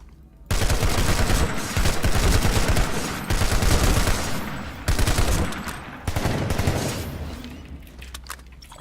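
Video game TR assault rifle firing in repeated bursts, loud and close, with several clusters of rapid shots and brief pauses between them.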